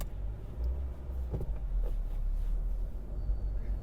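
A car with a manual gearbox pulls slowly forward out of a parking bay in first gear, its low engine hum steady and close throughout, with no voices over it.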